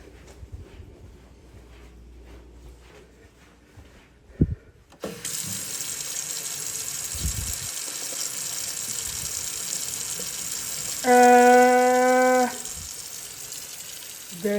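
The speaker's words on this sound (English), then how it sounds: "I almost closed it and it suddenly began to pour more water." After a quiet start with a couple of knocks, water suddenly gushes from a nearly closed tap into a sink, a steady loud hiss that continues to the end, with a brief tonal whine about two-thirds of the way through.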